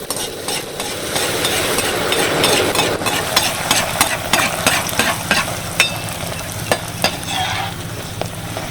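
Fuchka puris deep-frying in hot oil, a loud steady sizzle with crackling bursts and scraping stirs, close up and without talk.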